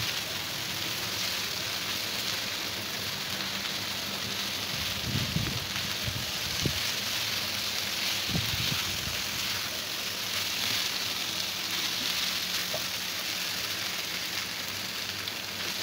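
Steady sizzling hiss of food stir-frying in a hot wok, with a few soft scraping knocks of stirring; no talking.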